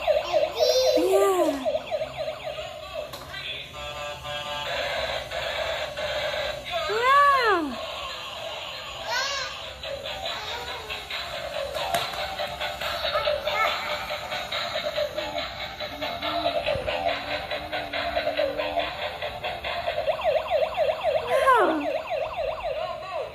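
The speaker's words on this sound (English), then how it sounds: "It says, don't move, freeze. Yeah. The police car." A toy police car siren plays close and loud, cycling through electronic wailing sweeps and buzzy warbling tones that continue steadily for over twenty seconds.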